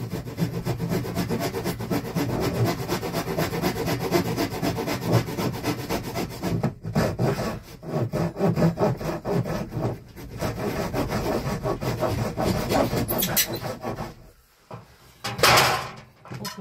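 Large hand saw cutting through wood during demolition and renovation work, with steady rasping strokes running almost continuously at close range, a brief pause partway and a short break near the end.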